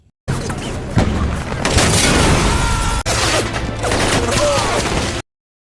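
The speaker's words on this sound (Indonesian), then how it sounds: "langsung menghujami markas dengan rudal yang membuat terjadinya baku tembak antara pasukan Gasakov dan pasukan militer yang berjaga di sana" A missile strike on a base followed by a gunfight between soldiers in a movie scene, heard as a loud dense wall of explosions, crashes and rapid gunfire that runs continuously for about five seconds before cutting off abruptly.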